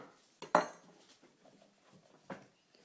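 A knife cuts through a rolled fondant sausage, giving two sharp, close knocks against the work surface, then a softer tap a moment later, quiet otherwise.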